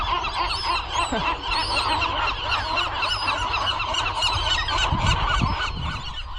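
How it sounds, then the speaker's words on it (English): A dense chorus of seagulls calling and squawking all at once at a nesting site on Anacapa Island, loud and continuous, with overlapping cries from many birds close by. "I'm here and there are seagulls everywhere"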